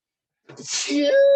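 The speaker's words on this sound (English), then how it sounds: "Recorded sneeze." A single close human sneeze after a moment of silence, rising from a sharp intake into a loud, voiced burst that ends abruptly.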